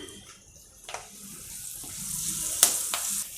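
Curry leaves, cumin, green chili and dal tempering in oil in a pan, giving a soft, steady sizzle and hiss with a couple of sharper spits and crackles standing out.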